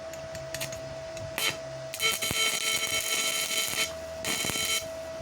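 A welding micro-inverter gives an electrical buzzing hum with a steady tone, broken by bursts of harsh crackling hiss that start and stop irregularly.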